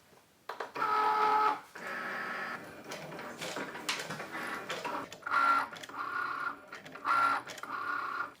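A Cricut cutting machine draws and scores an envelope, making repeated short whirring carriage runs broken by clicks and brief pauses, close and fairly quiet, with no talking.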